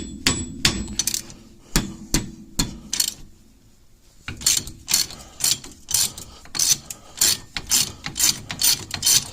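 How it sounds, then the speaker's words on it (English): Clicking of a half-inch ratchet working on a truck's front axle, sharp metallic ticks in quick bursts, a short pause, then a longer run of steady clicks, loud and close with no voices. "just a little 1/2 inch ratchet"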